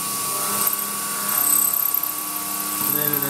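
A CNC mill makes a zigzag ramping cut about fifteen thousandths deep with compressed air blowing fine chips clear, giving a steady high whine and hiss with a few louder tonal pulses.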